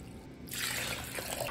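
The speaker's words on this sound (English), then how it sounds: "The water was right from the tap, neither tepid nor cold." Tap water pours into a bowl of soaking lentils, starting after a short quiet moment as a close, steady splashing trickle that continues to the end.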